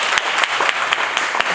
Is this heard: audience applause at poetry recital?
yes